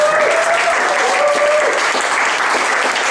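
Applause from the audience at a live music gig at a pub venue in Swindon: loud, close, dense clapping that stays constant throughout, with faint tonal ringing from the stage or sound system underneath.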